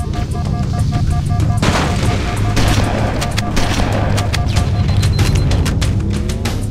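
Explosions and heavy blasts in the Halo game during a reactor-destroying mission, dense rumbling booms and crackling bursts that continue throughout at high level, with a voice briefly heard.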